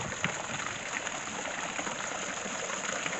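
Continuous gushing and splashing of water spewing from statues in a fountain in Carthage, Missouri, a steady, even rush heard up close without any talk.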